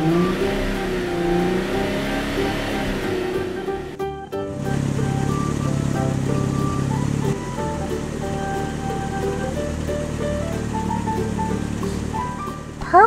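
Toy car engine revving for a purple car, a steady droning motor sound with a sharp rise in pitch and a slight shift in tone partway through, loud and close with music-like tones layered in and no talking.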